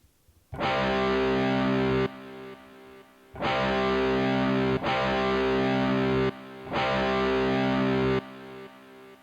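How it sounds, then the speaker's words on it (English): Heavily distorted electric guitar chords through an Orange Terror Stamp amp with reverb ring out in long sustained blocks, each decaying into a washy, spacious tail before the next strum. "Let's try some reverb now."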